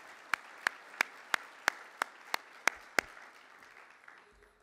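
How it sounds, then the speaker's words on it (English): About nine crisp hand claps ring out at a slow, steady pace in a quiet room, then stop. "deserve both our gratitude and a round of applause for both Clay and Brad."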